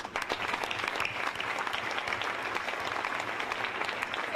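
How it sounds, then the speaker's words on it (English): Sustained audience applause fills a large room at a charity gala ball, steady and dense with no break, many hands clapping at once at moderate volume. "give yourselves a really big clap because we thank you all"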